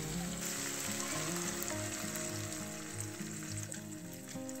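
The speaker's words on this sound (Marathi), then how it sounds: "आता हे आपण कढईमध्ये ओतून घेऊ।" Besan batter mixed with water hits a hot kadhai and sizzles steadily, a continuous frying hiss over a low humming drone, with no voices.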